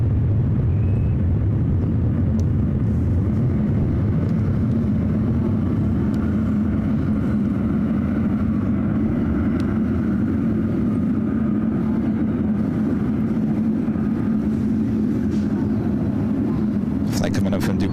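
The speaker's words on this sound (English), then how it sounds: "Emirates A380 Super about to fly directly over us" An Emirates Airbus A380 flies directly overhead at SFO, a loud, steady low jet rumble filling the whole stretch, with a person talking over it.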